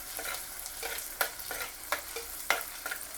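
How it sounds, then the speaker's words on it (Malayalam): Green chilies, crushed ginger and garlic sautéing in a pan for prawn chili curry, a soft continuous sizzle with several sharp scraping and tapping stirs of the spoon at irregular intervals. "പിന്നെ അതിലേക്ക് പച്ചമുളക് ഒന്ന് തട്ടിക്കൊടുക്കാം. ഇത് നല്ലോണം വഴറ്റി കൊടുക്കാം."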